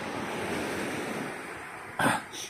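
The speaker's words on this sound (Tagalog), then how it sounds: "Dito, kalma talaga dito yung alon" Calm ocean waves lapping gently, a soft continuous wash with wind noise, ending in a brief louder splash near the end.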